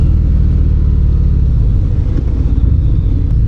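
A 2025 Harley-Davidson Breakout cruiser rumbles steadily while being ridden, a loud deep low-pitched exhaust drone that stays constant with slight pitch shifts and no talking.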